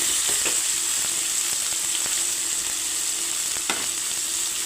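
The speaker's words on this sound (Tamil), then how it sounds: "இதையும் போட்டு கொஞ்சம் நல்லா வதக்கிக்கோங்க" Small tomatoes and onions sauté in a hot pan, a constant loud sizzle with occasional soft scrapes and taps from stirring.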